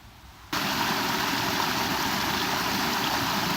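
A small waterfall on Stocking Creek in a forest cuts in abruptly after half a second, then pours as a loud, steady, unbroken rush of water.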